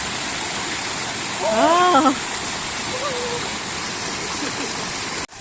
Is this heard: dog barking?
no